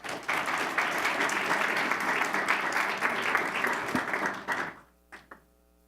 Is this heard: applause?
yes